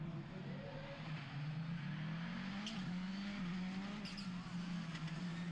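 Rallycross supercars racing on the Châteauroux–St Maur track, a sustained engine drone rising and falling with gear changes, tire squeal and distant crowd-like wash behind, continuous and moderately far.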